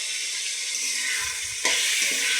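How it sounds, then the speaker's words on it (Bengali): Spice paste for egg chilli frying in a pan, a steady bright sizzle with a few stirring scrapes and a sharper burst of hissing near the end, no talking. "এবারে এটাও আমি একটু ভেজে নেব।"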